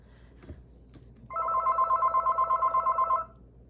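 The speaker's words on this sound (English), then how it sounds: "My phone always rings." A home telephone rings during an indoor craft session: one steady, pulsing electronic ring, loud and close, lasting about two seconds against a quiet room.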